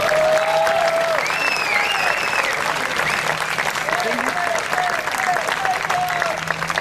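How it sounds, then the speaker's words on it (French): A crowd applauds a pétanque player being introduced at a large tournament in Canada, loud sustained clapping with whistles and cheering voices rising over it. "Un tonnerre d'applaudissements pour Redouane Amouchan."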